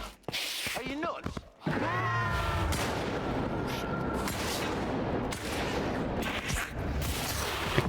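Gunfire in the Stalker 2: Heart of Chornobyl video game, sustained shots and bursts rattling loudly and continuously through most of the clip, with brief gasps and a cat-like cry near the start.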